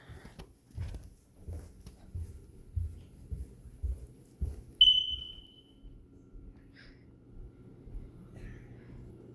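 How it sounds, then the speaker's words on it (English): A smoke detector gives a single short, high low-battery chirp amid quiet room noise and low footsteps or thumps, followed by faint softer beeps. "Smoke detector's chirping. It needs a new battery."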